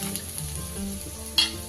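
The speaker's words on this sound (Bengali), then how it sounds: "তেলটা গরম হয়ে গেছে, এবার ফোড়নটা দিয়ে দিলাম" Dried red chilli and bay leaf sizzle softly in hot rice bran oil in a pan, a faint steady crackle with one brief sharper clink near the end.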